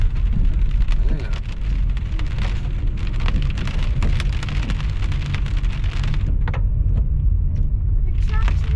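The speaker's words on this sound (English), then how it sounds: "it is pouring down rain today. I don't know if you guys can hear it hitting the window" Pouring rain drums hard on a car window during a drive near Newport's Yaquina Bay, a dense, loud patter of drops with a low road rumble beneath and a few scattered taps standing out.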